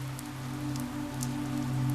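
Steady rain tapping gently on a window in a quiet indoor setting, a continuous soft patter with scattered sharper drops over a low steady hum, with no talking.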